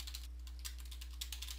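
Rapid, light clicks of typing on a computer keyboard, close and steady, over a low electrical hum.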